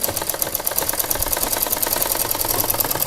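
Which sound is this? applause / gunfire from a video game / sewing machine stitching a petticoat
sewing machine stitching a petticoat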